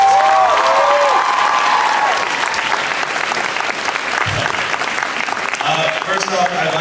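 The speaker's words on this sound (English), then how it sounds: "So, a round of applause for all of them." An audience at a cosplay contest claps steadily and loudly throughout, with a few scattered cheers mixed into the sustained applause.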